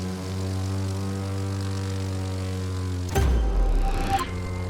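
A propeller airplane engine drones steadily in flight in The Crew 2, a loud low hum with a sudden burst of rushing wind and roar near the end.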